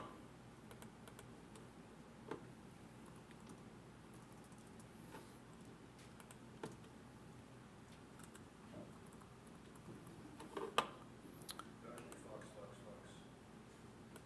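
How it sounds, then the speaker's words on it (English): Typing on a computer keyboard: light, scattered key clicks against a quiet room background, with a few sharper taps, close and faint. "If I can type, okay."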